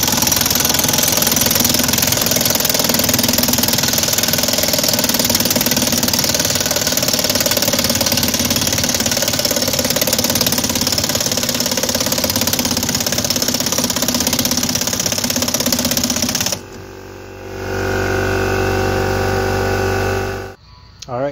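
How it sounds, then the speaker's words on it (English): An air compressor runs steadily and loudly in a garage during brake drum removal on a VW Bug or Bus, a continuous engine-like drone that cuts off near the end, leaving quieter workshop noise. "Compressor's charged up again."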